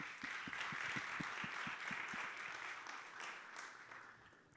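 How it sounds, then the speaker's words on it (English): An audience at a hospitality leadership event applauds a hotel executive, a faint, steady round of clapping that slowly fades out. "Let's give him a huge round of applause."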